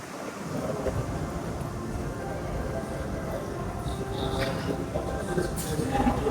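Steady wind roars and buffets the microphone outdoors in Brisbane, Australia, a constant rumbling gust with no pauses.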